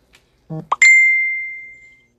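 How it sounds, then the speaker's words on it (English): A phone sounds a short notification: a soft plop-like blip leads into a single clear ding that rings on and fades out over about a second, alone in a quiet room. "Who's dinging my phone?"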